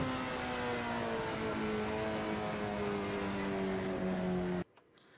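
Exterior engine note of a Ford Capri racing car in Assetto Corsa, a sustained high-revving roar held steady and loud before cutting off abruptly near the end.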